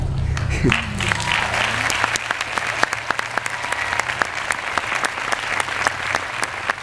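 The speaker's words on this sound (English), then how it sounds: "Those claps aren't enough" Sustained audience applause after a speech, a dense, even stream of clapping with occasional louder individual claps standing out, and a brief voice early on.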